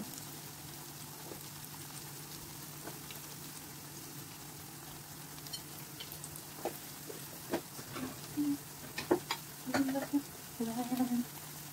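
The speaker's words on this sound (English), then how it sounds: "Double fry so that it will become crispy." Pork belly double-fries in hot oil for crispy pork belly, giving a faint, steady background sizzle with occasional small pops and clatters that grow busier toward the end.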